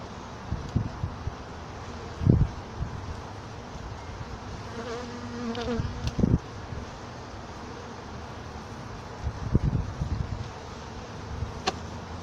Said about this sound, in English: Got a good number of bees.